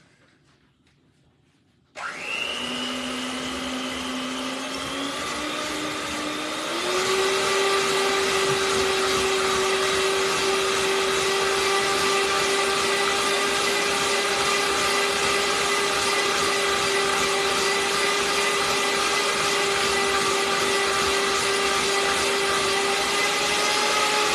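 Electric hand mixer beaters whipping icing in a deep bowl, a steady motor whine that starts abruptly and rises in pitch as the speed increases, then holds a loud, continuous hum, with no talking.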